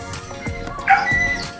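A dog barks and yips in short, sharp bursts nearby while a Raider 150Fi motorcycle has decals fitted, with a higher whining yelp near the middle and steady background noise throughout.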